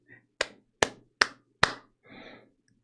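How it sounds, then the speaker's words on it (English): Four sharp, evenly spaced hand claps ring out close and fairly loud, followed by a brief murmur of voice. "That was me clapping for your pun."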